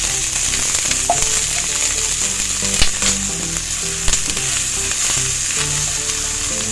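Thinly sliced carrot sizzles steadily in a hot pan for chicken Manchurian, a loud continuous fry with a couple of sharp pops and light stirring scrapes, no voices.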